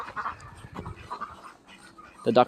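Ducks on a snowy winter farm quack and chatter in short bursts, close by, with a louder cluster of calls at the end and no one talking over them.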